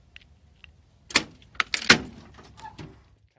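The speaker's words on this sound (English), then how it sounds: "Let's see if I can get my door to open here." A 1956 Chevrolet Bel Air car door opening, fitted with a push-button start, with a couple of close metallic clunks and latch clicks partway through after faint ticks, then settling quietly.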